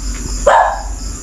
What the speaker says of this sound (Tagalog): May aso dito nga, idol.